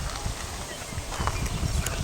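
Hooves of an unridden Mustang mare on her first ride, soft clip-clop footfalls in a loose, uneven rhythm under low rumble, nearby and moderately quiet, with no talk over them.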